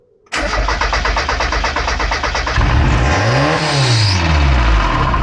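A first-generation Mazda MX-5 roadster engine cranks and bursts to life, then settles into a loud, rough idle before revving up and down; close and continuous, no voices.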